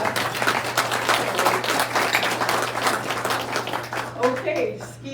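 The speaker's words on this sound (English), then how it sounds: "I guess you clap for that." Attendees at a community meeting applauding, a steady dense round of clapping that thins out toward the end as a voice begins speaking.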